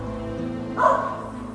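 Single short dog bark in the online game Roland City War, one brief mid-loud yelp rising over a low background hum.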